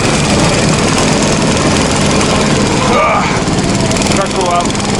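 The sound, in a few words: motorized snow tug (motosobaka) engine driving through deep snow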